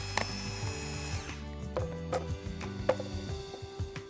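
A power drill whirs steadily, then gives way to intermittent revving bursts and clicks as it works, loud and close with no voices.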